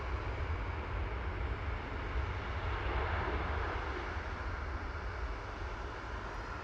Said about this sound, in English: That was Ryanair landing in the background from Shannon.